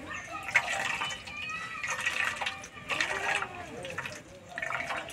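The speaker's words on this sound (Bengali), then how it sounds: "কুমড়ো জলটা ভালো করে চিপে বার করে নেব।" Grated ash gourd is squeezed through a cotton cloth, water dribbling and splashing into a bowl in several short bursts, faint and close, while someone speaks.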